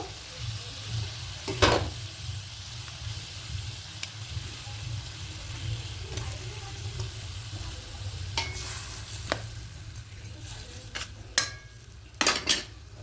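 Fish pieces are added to a pan with a little water and eggplant and fry with a low steady sizzle, while utensils clink and scrape against the pan in sharp, scattered knocks.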